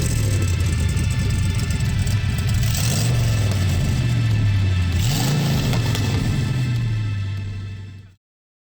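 A restored classic truck engine runs loud and close: a deep rumbling idle rises through two strong revs, then settles and cuts off abruptly.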